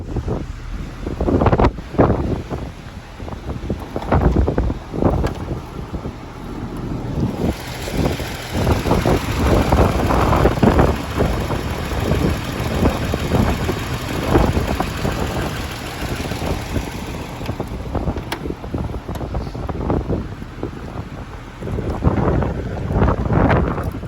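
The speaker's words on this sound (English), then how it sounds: "the fact that it's idling nicely is a good sign" A Jaguar XJS 3.6 running on old fuel, its engine idling in a low, steady rumble outdoors, buffeted by heavy gusts of wind noise on the microphone throughout.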